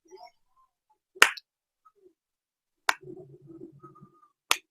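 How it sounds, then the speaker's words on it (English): Slow clapping: three sharp, isolated claps spaced well apart, each a crisp near smack, with a faint low murmur between the second and third. "I'm slow clapping."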